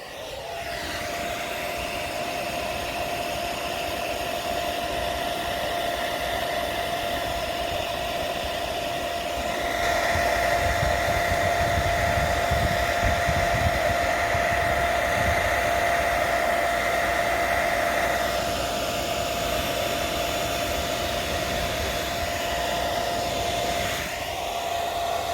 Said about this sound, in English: I'm using a hair blow dryer.